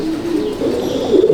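Andhra and Madrasi pigeons in a loft give a steady, close low cooing with a rising, throaty swell near the end, no talk over it.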